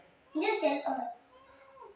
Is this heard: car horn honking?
no